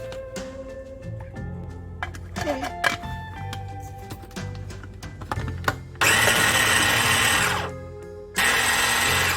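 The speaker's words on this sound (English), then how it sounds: "first I'm gonna ground the shrimp" A small kitchen grinder blitzes shrimp in short loud bursts of whirring noise, with clicks and handling sounds between runs, close up and dominant.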